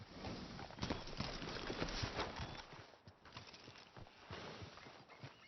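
Horse hooves clip-clopping at a steady walk in Red Dead Redemption 2, soft and fairly close, with rhythmic thuds over quiet outdoor ambience and no talking.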